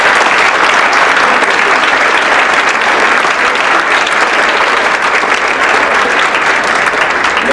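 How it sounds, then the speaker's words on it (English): A large crowd at a philanthropy day gathering gives a loud, dense, sustained round of applause honoring a hospital foundation retiree, thick continuous clapping with no break. "you slipped a round of applause in on me anyway"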